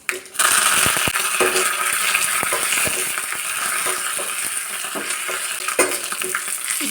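Curry leaves and dried red chillies frying in hot coconut oil for a Kerala village curry, a loud steady sizzle close by with scattered crackles and pops.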